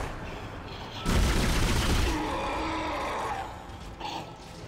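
An automatic gun in Dead Space fires a rapid burst of shots, loud and dense for about a second, followed by lingering gritty game ambience and a short later flurry.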